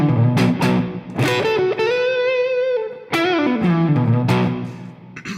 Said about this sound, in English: Little bit of the slapback echo. You can hear that.